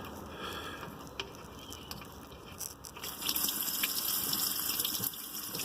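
Water gushing and splashing as a 2012 Air Nautique boat engine is flushed during winterization, a faint steady flow that grows louder and fuller partway through.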